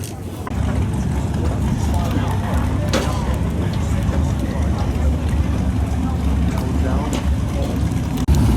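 An offshore racing powerboat in the Cowes to Torquay race passes by, a loud, rumbling engine roar with wind and rushing noise. Someone talks over it.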